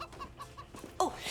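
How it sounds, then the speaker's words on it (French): Trained performing chickens cluck briefly in a handful of short, close, fairly quiet clucks, followed by a louder rustle at the end. "Brittany et Brack, les deux poulets du numéro de dressage."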